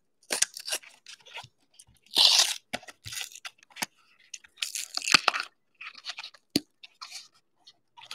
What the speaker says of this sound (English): let's rip this thing open here